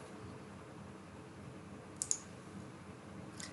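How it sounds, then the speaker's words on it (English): Two or three quick, light computer mouse clicks land in close succession in a quiet room during website sign-up, faint and sharp over soft background hiss, with another faint click near the end. "So click on the sign up"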